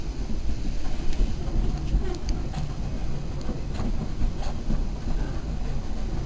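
Train ride past farmland, with steady loud rumble and rolling wheel noise throughout, faint rail clicks and rattles over it, no talking.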